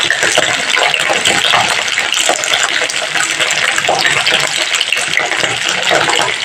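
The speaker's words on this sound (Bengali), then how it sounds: "ভেন্ডিগুলো আমি ভালো করে ধুয়ে রেখেছিলাম, তাই ভেন্ডিগুলোর থেকে একটু জলটা ছিটছে।" Freshly washed okra fries in hot oil with loud, continuous hissing and spattering from the water clinging to the pods, steady and close throughout.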